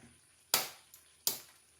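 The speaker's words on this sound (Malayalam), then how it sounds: "ഇനി അതിലേക്ക് നമുക്ക് മുട്ട പൊട്ടിച്ചൊഴിക്കാം" Eggs are cracked open into a boiling curry: two sharp, quiet cracks about three-quarters of a second apart, with a faint tap between them.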